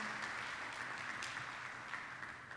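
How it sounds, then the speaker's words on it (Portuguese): Congregation applauding a sermon on Christ's judgment seat and the great white throne: dense, steady clapping from many hands fills the space throughout, no voices over it. "Vamos dar um aplauso a esse Senhor maravilhoso"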